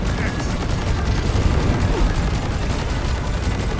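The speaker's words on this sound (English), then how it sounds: "look at all the explosions that are going on right now" Dense, continuous barrage of explosions and gunfire from the Deep Rock Galactic video game, loud and unbroken throughout with no pauses, a constant roaring wall of blasts.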